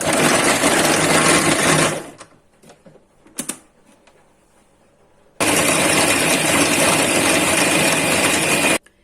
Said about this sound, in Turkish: Limonlarımı robotumun içerisine alıyorum.